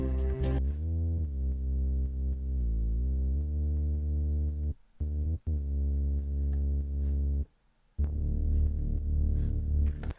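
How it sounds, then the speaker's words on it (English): A Moog Little Phatty analogue synthesizer plays a clean, sustained bass line of held, gliding notes, heard alone with two short gaps between phrases. "Bass was primarily recorded on Moog Little Fatty."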